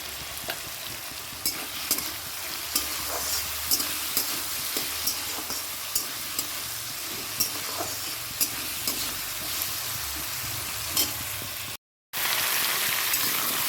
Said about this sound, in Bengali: পটলটা একটু ভেজে নিলাম একটু মেথি ফোড়ন দিয়েছিলাম দিয়ে ভেজে নিলাম